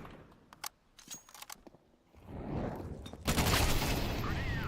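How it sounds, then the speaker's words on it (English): A flashbang goes off in a tactical shooter game, a loud broadband burst that swells and holds near the end, after scattered sharp clicks and gunfire-like pops. "Deploying flashbang."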